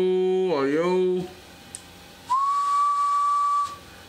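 A warbling tone slides down and up, then after a pause a single clear, sustained whistle note holds steady for over a second, close and loud, whistled into a microphone feeding a mobile linear amplifier.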